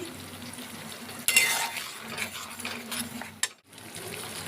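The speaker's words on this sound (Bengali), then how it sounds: "দিয়ে ভালো করে আমি মিশিয়ে নিচ্ছি।" Stirring a cashew, poppy seed and yogurt paste in a pan for potol korma produces a soft scraping swish and a faint sizzle, close, ending in a brief clink.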